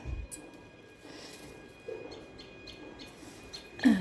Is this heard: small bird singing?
yes